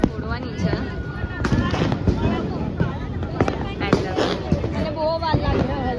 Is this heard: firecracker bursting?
yes